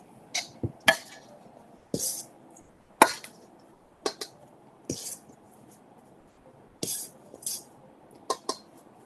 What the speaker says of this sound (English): Put that all into the bowl. And then just mix again.